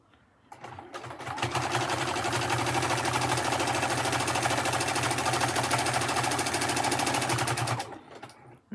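A sewing machine stitches slowly through a fabric pouch, its close, steady mechanical whir running unbroken for about seven seconds before stopping.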